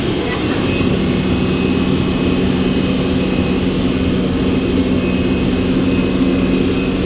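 A steady, loud jet capsule boat engine roar at about 20 knots, with a constant low drone and a high whine, running continuously throughout.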